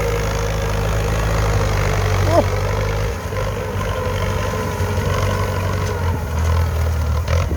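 A Ford tractor engine idles with a steady low rumble and throb, loud and close, running continuously throughout.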